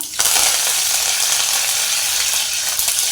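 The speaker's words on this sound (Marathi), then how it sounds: "आता मोहरीची फोडणी देते आहे मी थोडंसं जिरं टाकून घेते आहे कढीपत्ता टाकूया" Mustard seeds, cumin and curry leaves hit hot oil in a pan with a sudden loud sizzle that stays steady and crackling, close and alone.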